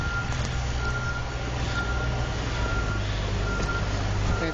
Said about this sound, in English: Wait, there's a T-bus coming up.